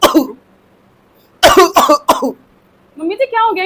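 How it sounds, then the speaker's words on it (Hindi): An older man coughs in harsh, close bursts: one cough, a pause, then three quick hacking coughs in a row, followed by a short stretch of his voice. "ये पापा जी को इतना खांस क्यों रहे हैं?"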